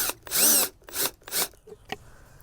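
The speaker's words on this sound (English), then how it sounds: "I've just got a socket attachment on my drill here." Three loud bursts of a power drill with a socket attachment spinning up and winding down, each lasting about half a second, followed by a brief faint click.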